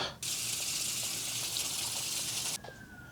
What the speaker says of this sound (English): So I'm actually just gonna go to the sink. I'm gonna run water on top of the substrate.